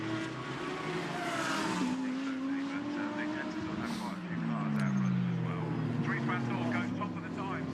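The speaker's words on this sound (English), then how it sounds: "So we've got then the McLaren threading its way through the traffic coming downhill." GT race cars, including a McLaren, lap the Brands Hatch circuit during free practice, their engines whining and shifting pitch as they pass at a distance beneath continuous commentary.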